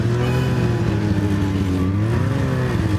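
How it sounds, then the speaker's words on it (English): A Ski-Doo snowmobile engine runs loud and close on ice at an Alaskan ice-fishing spot, holding a steady droning tone that rises and falls slightly in pitch. "It's riding a ski-doo, that's why."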